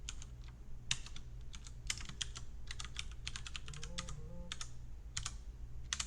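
Someone types on a computer keyboard in quick, uneven bursts of close, crisp key clicks, with a faint low hum in the background.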